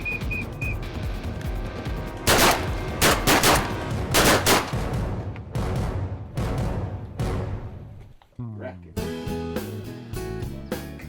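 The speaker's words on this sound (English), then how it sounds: "first opportunity I've had to use my ESPs in an actual box blind with guns going off around me" A rapid volley of sharp shotgun blasts cracks out close by from a box blind during a duck hunt, several overlapping, followed by a brief lull and more scattered shots.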